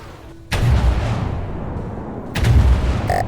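Railguns fire from an airship in the game From the Depths, two sharp booming shots about two seconds apart, each followed by a rumbling tail, loud and close.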